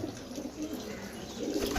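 Pigeons of a single breed from one loft coo steadily at close range, low throaty calls rolling on without pause.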